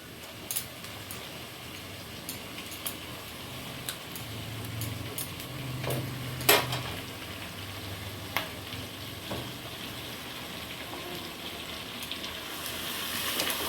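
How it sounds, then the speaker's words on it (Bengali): Chicken and onions fry together in a pan for dhaba-style chicken kosha, giving a steady close sizzle throughout with a few sharp utensil clinks and ticks. No one speaks. "চিকেনটা দিয়ে আর পেঁয়াজটা দিয়ে ভালোভাবে আমি ভেজে নেব।"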